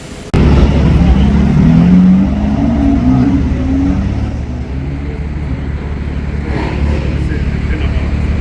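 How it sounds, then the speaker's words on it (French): A BMW M4 roars steadily while drifting, loud and close, with a sustained droning engine note and tire noise, and people talk over it. "Et quoi, elle drift ta M4?"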